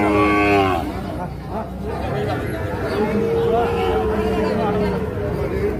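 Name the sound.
Sahiwal bull calf mooing at cattle market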